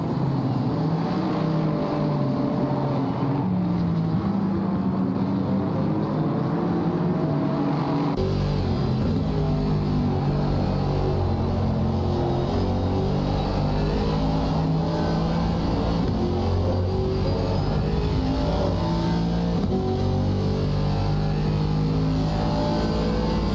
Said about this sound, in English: So here the BMW escaping down the main straight.